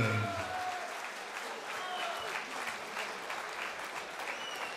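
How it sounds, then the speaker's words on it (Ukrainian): Crowd applause at a boxing event after a decision is announced, steady clapping with cheers in a large hall, moderately distant and continuous. "Также аплодисменты его сопернику Датона Нава."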